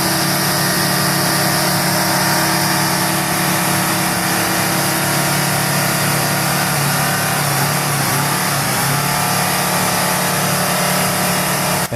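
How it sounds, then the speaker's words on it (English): Heavy oversized truck hauling heavy equipment, its engine growling steadily through muddy ruts, a loud continuous low rumble with no talk. "Listen to that engine. It's not screaming"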